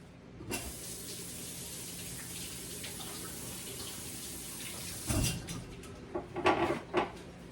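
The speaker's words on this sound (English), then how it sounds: "Let me rinse the ooey gooey off of it." A kitchen tap runs steadily into the sink while a seasoning packet from a corned beef brisket is rinsed beneath it, followed by a few handling knocks and splashes near the end.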